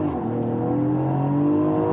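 A Mercedes GLE 53 AMG SUV accelerating hard, its engine producing a loud, steady, rising drone with strong harmonic tones that holds close and continuous for the full two seconds, with no voices.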